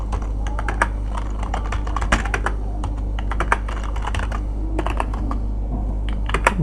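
Rapid, steady typing of CSS code on a computer keyboard, with close, crisp key clicks in an uneven flurry over a low steady hum, and no talking.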